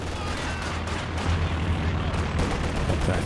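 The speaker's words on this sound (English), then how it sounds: "Katyusha barrage on the Grenadiers." A Katyusha rocket barrage in the video game Company of Heroes 2, a dense rumbling series of blasts and bangs, loud and continuous throughout the short span.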